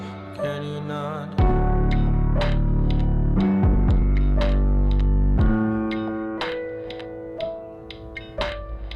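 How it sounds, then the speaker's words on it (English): The song closes on a heavy distortion effect, warped electronic tones sliding and bending in pitch over a deep bass drone, with ticking percussive hits scattered through the fading tail. "I like that he ends the track with the distortion."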